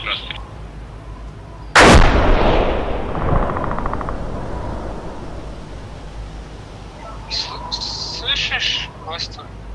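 A single loud gunshot from a shooter firing out of a window in the military video game ArmA 2, with a long rolling echo, followed by quieter distant crackle and brief chatter later.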